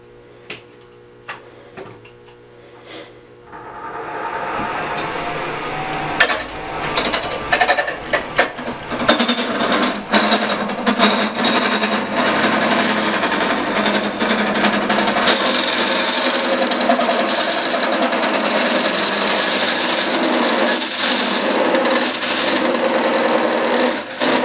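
Wood coring on a lathe with a McNaughton Center Saver, starting after a few quiet seconds into a loud, steady scraping and grinding hiss with sharp catches and knocks, close up and continuous.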